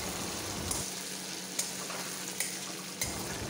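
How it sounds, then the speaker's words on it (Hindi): Chopped tomato being stirred into a frying chilli prawn masala in a pan, a steady hiss with a few light scrape and clink accents from the spoon, close and moderately loud with no talking. "अभी इसको अच्छे से मिक्स कर लेंगे जब तक कि ना ये टमाटर गल जाए"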